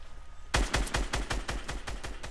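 Rapid automatic gunfire in a video game, about ten sharp evenly spaced shots bursting in after a quiet start, loud and close, with no talk.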